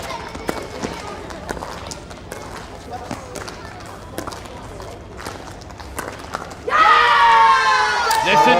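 Crowd at a pickleball semifinal in New Delhi bursting into loud cheering and shouting, with children's voices among it, after a stretch of quieter court sounds, paddle pops and commentary.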